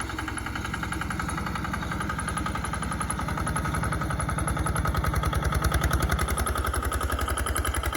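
A 4x4 riding lawn mower in second gear tows a one-ton trailer, its engine chugging in a fast, steady rhythm that grows slightly louder and rougher under load, close and continuous with no talking.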